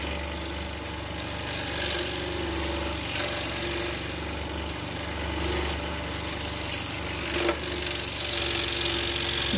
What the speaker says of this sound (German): mit diesem feinen Sägeblatt macht es richtig Spaß, diese Zacken entlang zu sägen